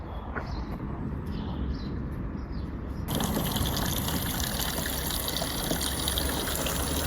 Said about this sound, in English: So I'm just putting the hose pipe into the filter just to check